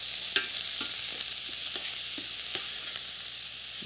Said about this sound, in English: I'm going to add the onions, the garlic, the ginger, everything together.